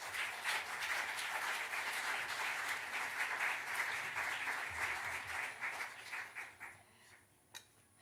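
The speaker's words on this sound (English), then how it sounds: "give them another round of applause" Sustained audience applause at a symposium session, a dense wash of many hands clapping that holds steady for several seconds, then thins into scattered individual claps and fades out near the end.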